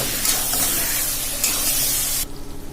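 Spices and salt roasting in hot oil for rajma masala give a steady, close, bright sizzle with stirring scrapes. Near the end the sizzle drops away to a quieter hiss.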